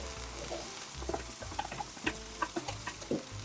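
Tofu and egg stir-fry in a pan with a soft continuous sizzle. A utensil patters and taps irregularly against the pan, all close by.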